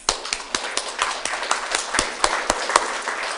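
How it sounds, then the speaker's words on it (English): Scattered applause from caregivers at an Alzheimer's disease center workshop, a small audience giving a brief round of claps with uneven, sparse hand strikes heard up close. "So join me in a round of applause for yourselves."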